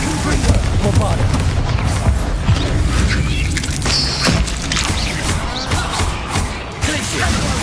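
Confringo and Bombarda spell blasts in a Hogwarts Legacy combat fight: loud, dense booms and crackling impacts follow one another without a break, with a voice talking over the noise.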